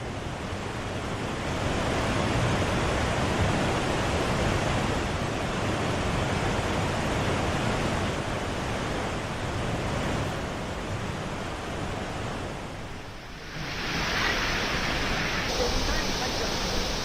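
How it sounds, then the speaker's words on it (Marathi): Heavy monsoon rain falling in Palghar, a dense, steady broadband roar that holds at a loud level throughout, dipping briefly near the end before returning. "पालघरमध्येही सकाळपासून दमदार पावसानं हजेरी लावली"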